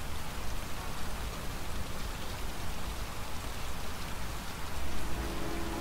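Heavy, steady rain in the video game Heavy Rain, a dense continuous hiss and patter filling the scene without a break, loud and close, with no talking.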